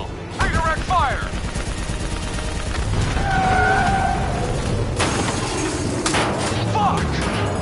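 Gunfire crackles in Black Ops 3 combat, bursts of shots mixed with mechanical clanks and battle noise, loud and close throughout.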